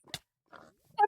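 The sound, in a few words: pig oinking in the video game Minecraft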